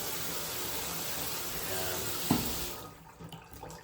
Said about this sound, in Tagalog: Tumutulo doon.